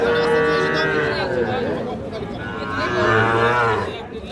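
Sahiwal cattle at a busy livestock market give loud, drawn-out moos close by, one long call at the start and another rising one later, with market chatter faintly underneath.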